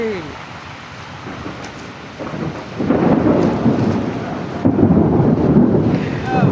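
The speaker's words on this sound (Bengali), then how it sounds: "বৃষ্টি বৃষ্টি বৃষ্টি বহুদিন পরে বৃষ্টি" Heavy rain pours down steadily at a hungar station in Saudi Arabia, a broad rushing wash that swells louder midway and again near the end, with low thunder rumbling under it and a voice calling out briefly.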